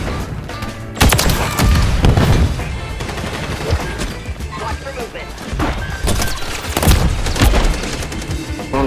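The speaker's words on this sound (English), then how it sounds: "I have a sentry gun." A sentry gun in a first-person shooter fires sustained, dense bursts amid explosions and crashing impacts, loud and continuous, with voices talking over the chaos.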